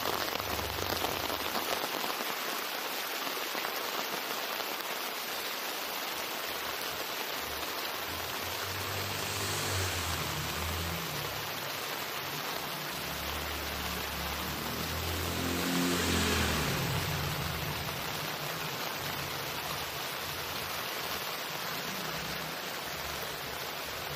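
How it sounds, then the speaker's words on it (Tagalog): Heavy rain pours down in a steady, dense roar on surfaces, continuous throughout with slight swells in intensity and no voices. "malakas ang ulan"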